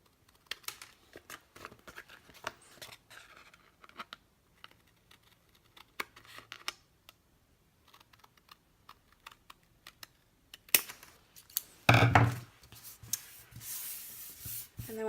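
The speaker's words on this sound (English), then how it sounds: "I just want to take some scissors and just trim off these pieces that are hanging off." Scissors trimming overhanging paper pieces on a scrapbook layout, heard as scattered small snips and rustles, quiet and close, with a louder burst of handling near the end.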